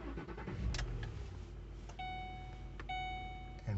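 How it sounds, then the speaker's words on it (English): A 2007 Ford Sport Trac with a 4.6 engine is started after check engine light repair work; clicks and a key turn come first, then chimes sound and the engine catches with a low thump right at the end, all quiet and close. "So I go back, start the engine again,"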